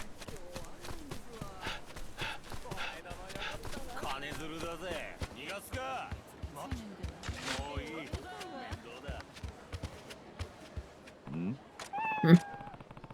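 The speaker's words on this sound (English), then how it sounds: "Seems like a dangerous place for a cat." A cat in the video game Like a Dragon: Ishin! meows a couple of times amid game ambience and a voice talking over it, with a louder, sharper meow near the end.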